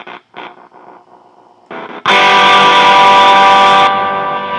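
Electric guitar played through Amplitube 5 with a Peavey JSX: notes picked sparsely, then a loud, sustained distorted chord rings out for about two seconds before fading down.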